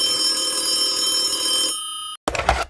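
An old telephone bell rings in a continuous metallic trill for nearly two seconds, then cuts off abruptly before a short burst of handset clatter.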